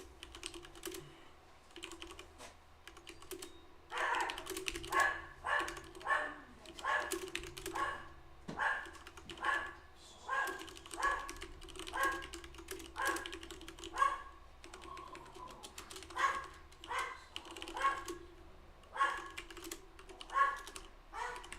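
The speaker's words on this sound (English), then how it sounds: "Yeah, that's my dog." A dog barks in a steady run of short, evenly spaced yips and woofs for about twenty seconds, moderately loud and slightly distant, heard alone without talk.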